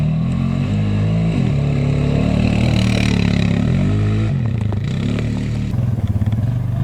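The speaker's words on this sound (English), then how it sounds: "what we experienced is a jumpy transmission that seems to constantly search for the right" A Yamaha Grizzly ATV engine with a jumpy automatic transmission runs close and loud, its pitch repeatedly rising and dropping as it hunts between gears, with some mechanical clatter.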